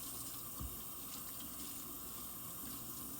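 Water runs steadily from a kitchen tap into a sink while pet food and water bowls are being washed, a continuous close gushing flow with a brief low thump partway through.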